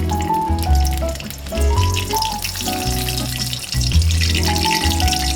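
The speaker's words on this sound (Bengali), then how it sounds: "এখন পেঁয়াজ দিয়ে দিব তো দেখেন আমি পেঁয়াজটা নাড়াচাড়া করছি ভালোভাবে" Sliced onions and three bay leaves fry in hot oil, giving a close, continuous sizzle and crackle that shifts as they are stirred, with a faint tonal hum underneath.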